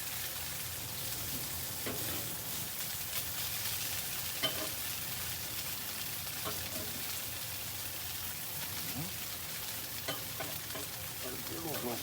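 Breakfast sandwich foods such as hash browns fry on a hot griddle, giving a steady, dense sizzle and crackle that runs close and unbroken, with occasional scraping.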